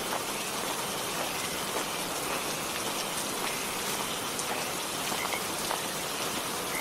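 Steady nor'wester storm rain pours down continuously, a dense hiss with scattered drops pattering on surfaces nearby.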